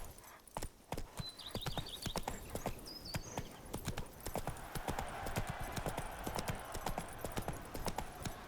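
Roach, Geralt's horse in The Witcher 3, gallops with crisp, rapid hoofbeats in an even rhythm, close and clear, with a few faint bird calls early on.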